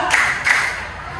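A group plays a counting clapping game, with two sharp distinct claps close by, the second following about a third of a second after the first, then fading into quiet room tone.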